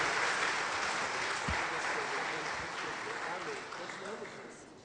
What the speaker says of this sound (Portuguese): E você dá uma salva de palmas pela vida desse casal.